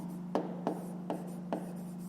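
Pen writing on paper during a 5th-grade maths exercise: four short, faint scratchy strokes spaced about a second apart over a steady low hum, with no talking.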